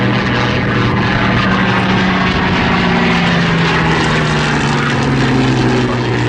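A Supermarine Spitfire passes loud and close in an evening airshow display at Southport, its piston engine roaring continuously with a throbbing, slowly falling drone throughout.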